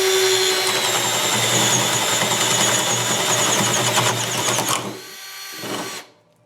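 A Hitachi 12V lithium-ion cordless drill whines loudly and steadily as a spade bit bores through wood, then the motor cuts out, briefly revs again, and stops.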